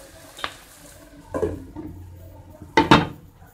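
A lid is set on a cooking pot of green banana curry, giving a few close metallic clanks and clatters, the loudest double knock near the end, with quiet kitchen background between.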